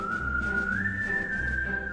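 A clear, sustained whistled tone, gently sliding upward then holding steady, sits over a soft low background murmur. No talking.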